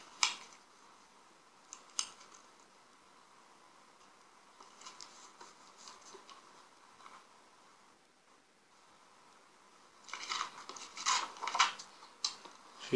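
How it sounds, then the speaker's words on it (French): Paper is cut with scissors, trimming the excess from a scrapbook speech bubble: scattered crisp snips and rustles, with a denser run of cutting near the end, close and fairly quiet with no talking. "Je vais couper le surplus de la bulle pour la coller sur le côté."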